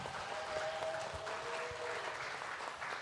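Audience applause for a team of three fifth-grade elementary school students at a children's traffic safety speaking contest, a steady even wash of clapping with a faint tonal whistle running through it.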